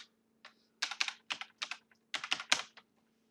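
Password being typed on a computer keyboard: a quick irregular run of crisp key clicks in small bursts, close and clear against a quiet background with a faint hum, no talk.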